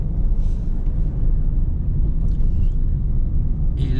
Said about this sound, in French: Je continue à rouler.